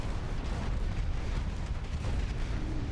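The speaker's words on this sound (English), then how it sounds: "Oh yeah, take another fucking torpedo!" A torpedo slams into a warship during a naval battle game, a dense, rumbling explosion that fills the whole stretch with heavy low roar and no break.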